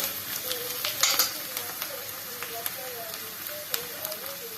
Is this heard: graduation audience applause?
no